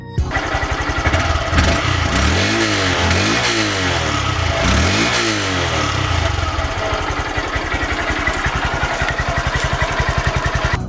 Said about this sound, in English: The stock exhaust on this bike is actually pretty quiet